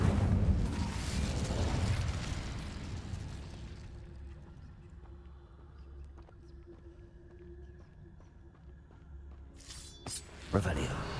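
An Incendio fire spell is cast in Hogwarts Legacy: a loud, close whooshing burst of flame that fades over several seconds into a low rumble, with a spoken voice and a faint later thump.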